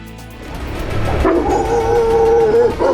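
Stray dogs howl and yip, a rising drawn-out howl with whimpering tones building over a few seconds, loud and close, with no talking.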